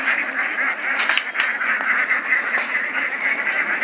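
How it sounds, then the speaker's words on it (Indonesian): A flock of ducks pours out of a container in a village, quacking continuously in a dense, overlapping chorus close by, with a few louder sharp calls standing out. "Inilah bebek-bebek itu sudah mulai turun"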